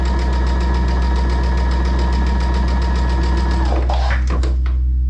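A sewing machine stitching a quilted coffee mug rug whirs with a steady rapid mechanical beat and strong low hum, then stops abruptly near the end with a few clacks and knocks.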